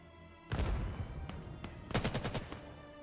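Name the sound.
gunfire in the VAIL VR shooter video game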